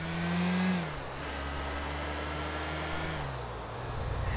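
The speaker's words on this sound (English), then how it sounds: "it sounds like a blow dryer" Loud engine in the GTA IV video game with a steady whining drone like a blow dryer, a tone that wavers and dips slightly partway through.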